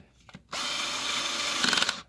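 A Black & Decker Pivot Driver PD360 cordless screwdriver, upgraded to an 18650 lithium-ion battery, whirs in one close, steady burst of about a second and a half while driving a screw.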